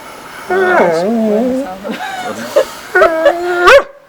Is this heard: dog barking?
yes